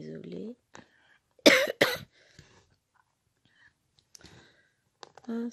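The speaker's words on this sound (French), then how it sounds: "Je commence à tousser de bonne heure ce matin" A person coughs twice in quick, loud bursts outdoors in a European town, with a little throat clearing and quiet murmured talk around the coughs.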